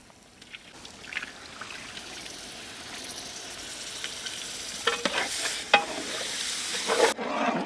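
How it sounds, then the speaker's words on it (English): Curd and spices sizzling in ghee for Rajasthani Jodhpuri kabuli pulav, stirred steadily with a spoon scraping the pan, the sizzle growing louder and fuller toward the end, close up with no talking. "We need to continuously stir like this until ghee float on the top."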